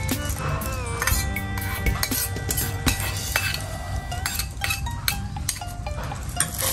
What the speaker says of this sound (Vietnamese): Giờ em trộn lên cho nó đều gia vị.